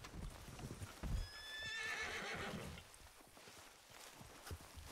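Horses in the Red Dead Redemption (RedM) Western video game, with clear clip-clop hoofbeats and a loud whinny near the middle, and someone speaking briefly at the start.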